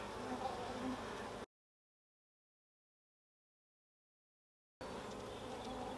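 Honeybees buzz inside a hive after being smoked, a dense, agitated hum heard up close in two short stretches separated by a silent gap.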